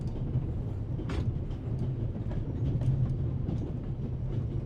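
A train runs steadily on rails with a continuous low rumble and faint rhythmic clatter, heard from inside a carriage, with no voices.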